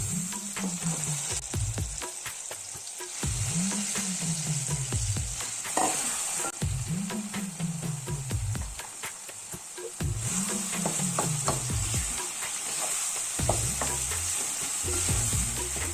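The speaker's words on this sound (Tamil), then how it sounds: "பூண்டு வதங்கிட்டு இப்போ நம்ம அரைச்சி வச்ச கருவேப்பிலை புளி உப்பு சேர்க்கணும்" Ground curry leaves, tamarind and salt frying with garlic for curry leaf thokku, with continuous loud sizzling and repeated scraping strokes of a spoon against the pan, close up. A low rhythmic hum from a nearby appliance runs underneath.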